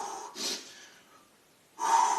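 Two bursts of heavy breathing after a shoulder workout set, a strong exhale early on and a louder, longer one near the end, close and alone with a quiet gap between them.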